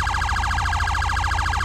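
Rapid phaser siren from an emergency-vehicle siren mod in a video game, a fast warbling electronic sweep repeating many times per second, loud and steady with no talk.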